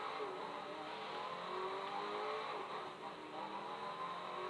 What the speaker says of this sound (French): Vas-y, allez, accélère un peu.